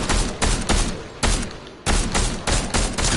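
Rapid bursts of gunfire in the video game Fortnite, several loud close volleys separated by short gaps, with no talking over them.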